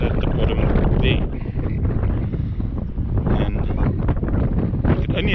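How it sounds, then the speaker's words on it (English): Strong wind buffets the microphone on a coastal trail above a seal colony on the Robberg peninsula, a loud continuous roaring rumble that swamps everything else, with no talking. "Only it wasn't for this wind"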